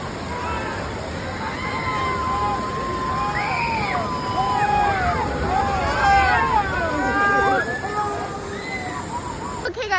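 Water sloshing and rushing around a round raft on the Calico River Rapids boat ride at Knott's Berry Farm, steady and close throughout, with a babble of riders' voices and some shouts mixed in.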